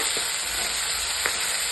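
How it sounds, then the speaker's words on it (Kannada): Mutton keema simmers with tomatoes in a pan, a steady close sizzle broken by a couple of brief stirring scrapes, with no voices. "ಟಮಾಟೆ ಹಣ್ಣು ನೋಡ್ರಿ ಸ್ವಲ್ಪ ಮೆತ್ತಗಾಗತ್ತಕ ಕುದಿಸ್ಕೊತೀನಿ"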